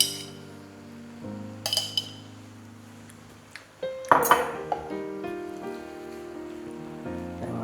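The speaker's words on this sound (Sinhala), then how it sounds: "දැන් අපි හොඳට හැඳි ගාගමු" A spoon stirs spaghetti sauce of tomato ketchup and tomato paste in a pan, with soft scraping and a few sharp metallic clinks and taps against the pan, fairly quiet with no voices.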